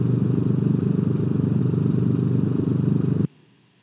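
A car engine fitted to a lawnmower in BeamNG Drive idles with a steady, close, throbbing drone, running evenly for about three seconds before cutting off abruptly, leaving only faint background hum.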